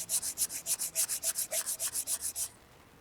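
Coconut being ground by hand, making quick, steady scraping strokes, about sixteen in an even rhythm, close and clear, before it stops near the end.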